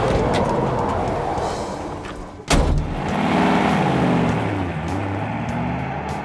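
A 1955 Chevy gasser with a Hemi engine drives along the road, a steady engine drone and road rumble filling the clip, broken by a sharp thump midway before the cruising sound resumes.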